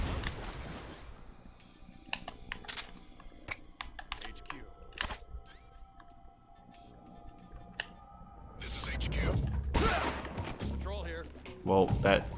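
A grenade thrown and exploding in Metal Gear Solid 3: scattered sharp clicks and taps give way to a loud, low rumbling blast near the end, followed by another short burst.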